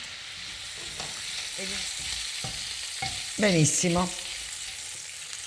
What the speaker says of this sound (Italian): adesso lasciamo rosolare le seppioline